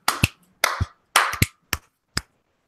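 Six sharp hand claps in quick uneven succession, made to sync livestream audio, crisp and close with no talking.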